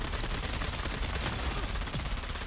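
SMG fire in the video game Dune: Awakening, dense rapid automatic bursts forming a loud, continuous crackling rattle with no talk.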